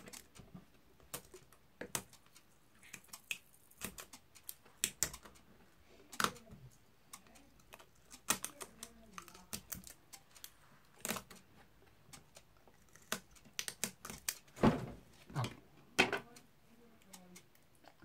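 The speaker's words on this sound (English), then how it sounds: "Let's cut 4 pieces of tape in one go." Pieces of tape being torn and cut for a card trick, a sparse series of sharp close ticks and clicks with quiet gaps between them.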